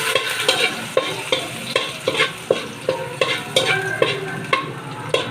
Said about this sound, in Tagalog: Ngayon, magigisa na tayo. Magigisa na natin. Ilagay natin yung bawang.